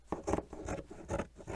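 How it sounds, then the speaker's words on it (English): Scissors cutting general fabric while finishing English paper piecing, several close, rough snipping and rubbing strokes in an irregular rhythm, heard alone without talk. "My scissors are perfectly fine. So I'm just going to cut"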